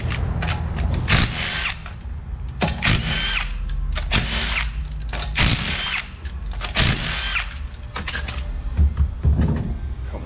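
An impact-style power tool on a Toyota Prius wheel, spinning lug nuts off in repeated loud, close bursts with short pauses between them, against a steady shop background.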